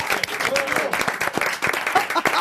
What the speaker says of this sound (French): ils sont payés, ils applaudissent bien